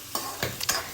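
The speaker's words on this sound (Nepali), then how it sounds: "लसुन तेलमा फुराउँदैछु।" Garlic sizzling in hot oil in a pan, with three quick stirring scrapes over a steady, close crackle of frying.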